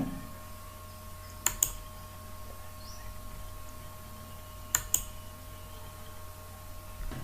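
Sparse keystrokes on a computer keyboard during online form entry: two quick pairs of crisp clicks, a few seconds apart, over a faint steady room hum.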